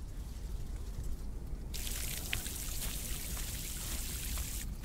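Water pours steadily from a watering can onto tomato plants in the horror-farming game We Harvest Shadows, a continuous splashing trickle that swells louder partway through and runs without a break.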